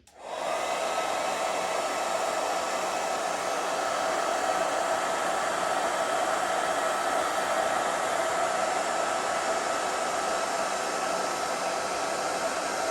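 A hair dryer blows steadily and loudly for the whole stretch, drying water-sprayed tissue covering on a model aircraft so it shrinks, starting abruptly and holding a constant whooshing roar with no talk.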